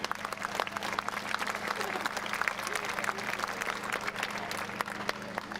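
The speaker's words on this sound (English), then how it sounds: "let's give these guys a quick round of applause for all that they do" A crowd at a high school pep fest applauds the football coaches, with steady dense clapping throughout, fairly loud and sustained over a low background hum.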